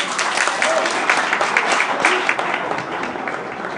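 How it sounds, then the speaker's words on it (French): An audience claps to open an awards ceremony for a Savoie butchers' union, a dense, steady wash of applause that stays loud and full from start to finish. "Ce soir, il est décidé que ce générique sera vos applaudissements"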